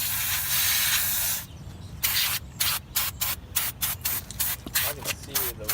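An aerosol spray paint can fitted with a straw nozzle hisses onto car brake calipers, starting with one long continuous blast and then breaking into a rapid series of short bursts, loud and close.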